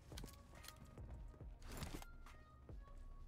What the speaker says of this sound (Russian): Но я точно слышу, что он там бегает